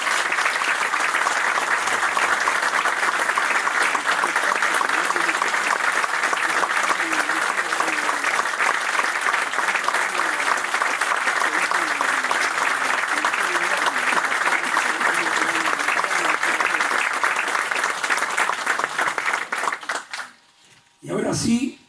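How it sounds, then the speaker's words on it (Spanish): An audience at a book presentation in the Malvinas Museum gives loud, sustained applause for about twenty seconds before it stops abruptly. "les pido un fuerte aplauso"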